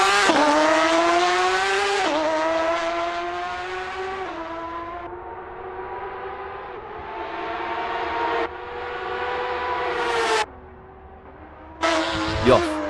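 A 2018 Porsche 911 RSR race car screams around Monza in a racing game, its high engine note rising and falling through gear changes with a brief dip, then a sharp return near the end.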